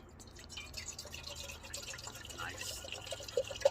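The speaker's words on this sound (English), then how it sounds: "Let's get the water poured in the kettle." Water pours into a camping kettle at a winter campsite, a quiet, continuous trickle with drips that grows slightly busier toward the end, heard close up against low background rumble.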